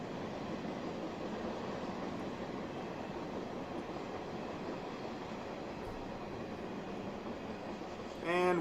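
A westbound Union Pacific manifest freight train rolls past, a loud, continuous rumble and rattle of wheels on rails holding steady throughout, with a brief high squeal near the end.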